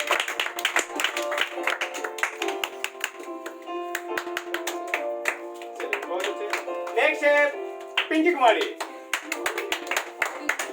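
An audience claps in a steady patter of hand claps at a school event where students are called up one by one, while a voice announces over it and a musical tone runs underneath.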